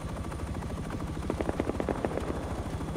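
A helicopter in a video game thumps steadily with rapid, rhythmic rotor beats, close and fairly loud, and the pulsing grows stronger toward the middle.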